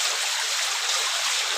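Rainwater runs steadily as someone walks out of a cave, a dense continuous rush and trickle filling the whole clip with no pauses or talk.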